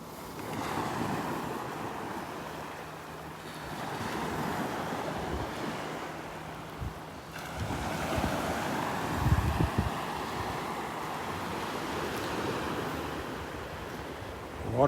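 Steady surf and gusting wind on a beach at Delnor-Wiggins on a Friday morning, a continuous wash of waves with rumbling microphone wind bursts throughout.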